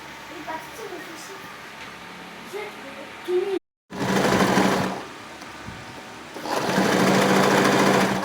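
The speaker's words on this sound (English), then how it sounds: "then I will sew 1/2 inch all through the band" A sewing machine stitches a half-inch seam along a pencil skirt waistband in bursts, running steadily for about a second, pausing, then running again longer, with quieter handling noise and soft talk between runs.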